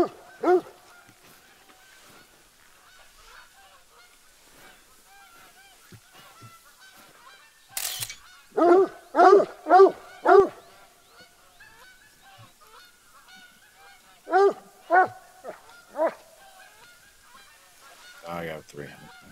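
Hunting dog in theHunter: Call of the Wild barking in short bursts of three or four sharp yaps, clustered twice with quiet gaps between, fairly close over a faint outdoor background.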